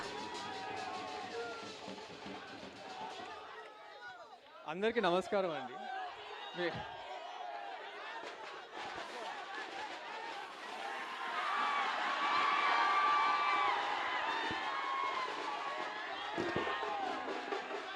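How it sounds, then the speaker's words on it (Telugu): A large audience at a Telugu public event cheers and shouts, a dense roar of many voices swelling through the latter half, with a man addressing the crowd over a microphone and brief louder bursts early on. "మీరు అందరూ ఒకసారి గట్టిగా చప్పట్లు కొట్టండి. మీరు అంతగా అరుస్తుంటే టెన్షన్ పడతారు ఎవరైనా."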